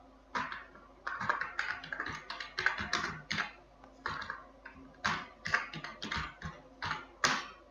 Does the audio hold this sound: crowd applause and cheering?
no